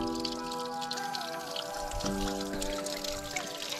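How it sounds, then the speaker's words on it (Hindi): Water flows from a mountain spring pool on a high Himalayan trek in Uttarakhand, a soft continuous trickle and patter with faint tonal ringing over it, no one speaking. "ये पानी का स्रोत है यहाँ पे।"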